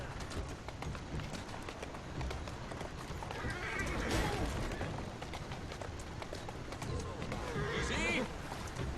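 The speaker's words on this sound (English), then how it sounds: "I hit that horse right in the face" Horse in the video game Assassin's Creed Syndicate whinnying over a busy street bed of hooves and clatter, with two louder cries around the middle and end, sounding close.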